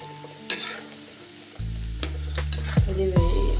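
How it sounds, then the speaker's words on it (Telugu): Mustard seeds, cumin and dried red chillies hit hot oil in a pan for a Telugu gooseberry pickle. A loud sizzle starts abruptly, then crackles and pops with a few stirring scrapes, close up and without talk. "మన తాళింపు గింజల ఆవాలు జీలకర్ర ఎండుమిరపకాయలు వేసేస్తున్నాము"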